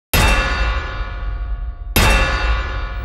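Sampled metallic clangs from the Soundpaint Clanggg library ring out as two loud, layered full-range hits about two seconds apart, each with a long shimmering decay.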